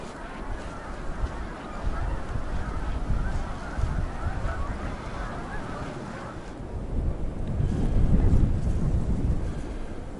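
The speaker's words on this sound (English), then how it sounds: "I'm on my way to the river where I hear all the geese and no doubt other waterfowl." Many geese and other waterfowl honk from a distant river over a steady low rumble, the calls overlapping in a continuous chorus with no clear break.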